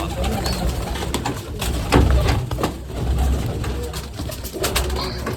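Pigeons coo in a loft, soft throaty calls recurring under a busy wash of fluttering, shuffling and background noise, fairly close and steady throughout.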